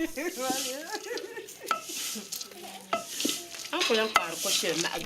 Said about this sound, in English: they put them on fire and they fry it while stirring continuously